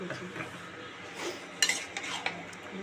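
A spoon stirring potatoes with ginger paste in a pan, with soft scraping, a faint sizzle and a few sharp metallic clinks against the pan, close and fairly quiet.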